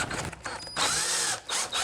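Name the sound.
drill driving screws into cedar bird feeder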